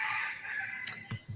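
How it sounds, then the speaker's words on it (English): A rooster crows at a suburban home, a short cock-a-doodle-doo with a couple of clucking bursts at the end, fairly close and clear against a quiet background. "My rooster, as soon as he hears my voice, guys, when I'm outside, he starts that"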